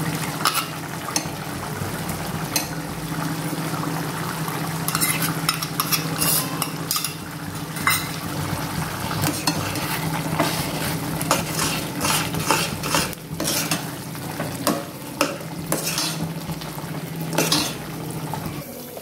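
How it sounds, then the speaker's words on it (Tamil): Coconut paste being stirred into a simmering pea kurma, a steady bubbling sizzle with repeated spoon scrapes and clinks against the pan, close and continuous with no talk. "நம்ம இப்போ தேங்காய் பேஸ்ட்டை ஊற்றிடுவோம்."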